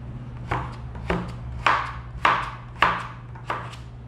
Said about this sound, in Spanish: aquí como ven, estoy picando en trocitos pequeños